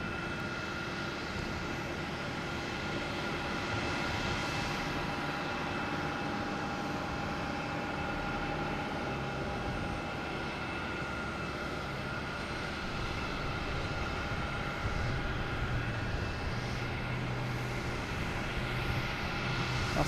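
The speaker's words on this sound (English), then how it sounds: "We have a JetBlue coming in from Nashville, an A320, flight" JetBlue Airbus A320 arriving at Boston Logan from Nashville, a faint, steady jet rumble with a thin whine held at a distance for a long stretch, no talking.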